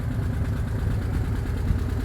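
A VW T25 camper van engine, with its exhaust leaking in several places, runs at a steady idle: a continuous low, rough drone held close and even throughout, with no voices.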